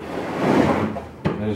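A wooden drawer slides open or shut in a home, a low rubbing scrape ending in a short knock, close and fairly loud.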